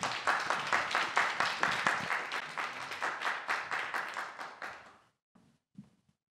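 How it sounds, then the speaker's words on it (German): Audience applause at a 2019 youth speech contest, a dense, steady burst of many hands clapping for about five seconds before cutting off abruptly, followed by near silence with a couple of faint thumps. "Applaus, bitteschön."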